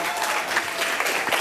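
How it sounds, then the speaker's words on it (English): A brief burst of crowd applause at a Michael Jackson tribute event in Hollywood, many hands clapping in a dense, even wash with a few cheers mixed in. "give him a round of applause for keep fighting for Michael."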